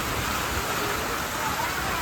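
Heavy rain pours steadily during a sudden storm that has brought down a tree by a house, a dense continuous hiss filling the whole stretch at close range.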